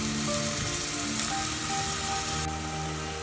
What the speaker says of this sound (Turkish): Ve bunu çok güzel kavuracağım. Soğanlarım pembeleşince havuçlarım da kavrulmuş olacak.